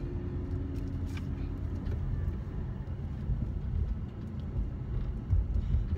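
Steady low rumble of a car being driven, heard from inside the cabin, with continuous road and engine noise throughout and no talking.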